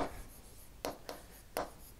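Marker or chalk strokes on a board during a lecture, three or four short scratchy bursts close by in a quiet room.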